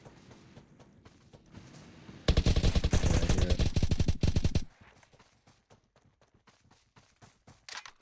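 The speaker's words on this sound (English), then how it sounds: "That was the biggest drive-by shooting we've ever seen." Loud burst of rapid automatic gunfire in a drive-by shooting in Roblox Apocalypse Rising 2, a dense volley lasting a couple of seconds before dropping to quieter scattered clicks and footsteps.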